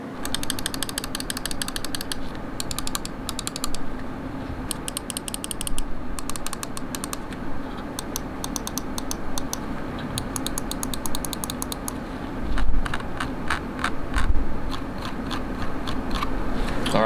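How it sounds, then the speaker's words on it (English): Rapid, crisp clicking from the buttons of a Razer Viper Ultimate gaming mouse, pressed in quick bursts and short rolling runs with brief pauses between, close and alone with no talk. "let's go ahead and cut over to just a sound test of you listening to how all of the buttons sound with this"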